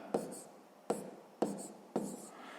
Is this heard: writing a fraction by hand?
yes